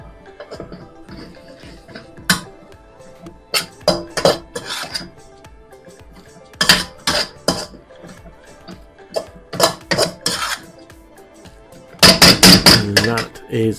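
A wok of chicken chow mein, dressed with sesame oil off the heat, is tossed and stirred, giving loud clattering metal scrapes and clinks in bursts with pauses, ending in a fast flurry of knocks.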